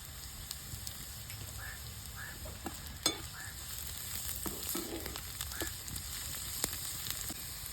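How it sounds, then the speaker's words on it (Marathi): Onion with curry leaves, chilli and garlic sautés in a pan, a steady close sizzle broken by light stirring scrapes and taps, moderately loud and without voices. "इथे कढीपत्त्याची पानं, कांदा चांगला परतून घ्यायचा"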